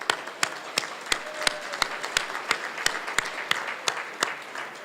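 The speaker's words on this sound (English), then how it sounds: "before we give a clap to that last thank you" Clapping in a steady, even rhythm, about three beats per second, sharp claps over a soft wash of crowd noise at a banquet.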